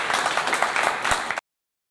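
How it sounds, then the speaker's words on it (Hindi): Audience in a televised singing competition applauding a contestant, a short, dense burst of clapping that cuts off abruptly after about a second and a half. "जोरदार तालियां रमना भारती के लिए।"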